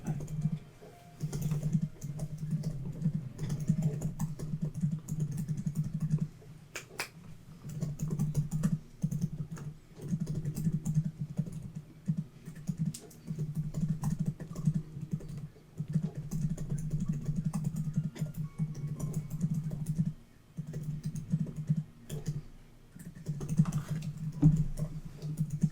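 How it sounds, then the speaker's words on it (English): Keys clatter on a computer keyboard in steady, uneven bursts with brief pauses, continuing for about twenty-five seconds at close, moderate volume with no talk. "Still typing."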